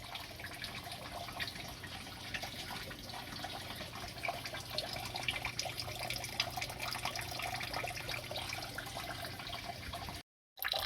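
Hot tie-dye liquid pours and trickles steadily off dyed shirts, a continuous close splashing flow like a running tap that carries on for about ten seconds before a brief cutoff.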